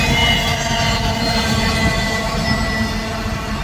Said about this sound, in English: This was a 2 by 0 eastbound Z train